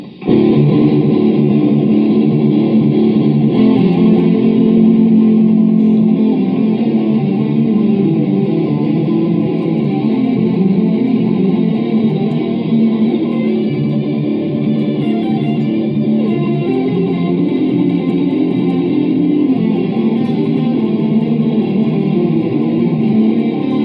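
An electric guitar solo track recorded through an iRig plays continuously with effects and distortion, sustained and loud with a washy, reverberant tone.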